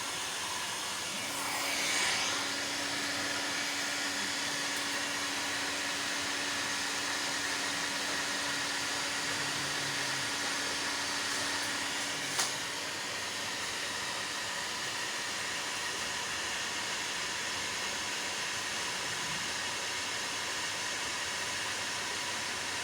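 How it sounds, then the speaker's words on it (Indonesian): Cooling fan of a 48 V pure sine wave inverter kit (EGS002 driver, 16 TO247 MOSFETs) spinning under a load above 3200 Wh, giving a steady, even whir with a faint tonal hum, heard alone. "kipas atau fan sudah berfungsi dengan normal ya, karena suhu inverter naik di sini."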